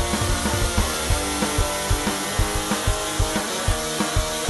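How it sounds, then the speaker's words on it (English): An angle grinder rough-sanding a wooden Les Paul style guitar body, a loud continuous whine with regular rhythmic pulses as the disc bears against the wood, with no talk. "Here's what the guitar body looks like after the rough sanding with an angle grinder."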